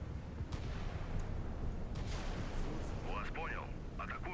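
Missiles launching in the naval combat game Sea Power during a Soviet marine offensive: a deep, rumbling roar with whooshing bursts fills the whole stretch, and a voice talks briefly near the end.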